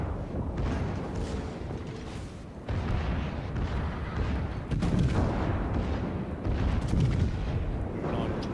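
Heavy guns of the battleship Bismarck firing in a naval game, deep rumbling booms rolling continuously under a dense low roar, loud and close, with a faint voice talking underneath.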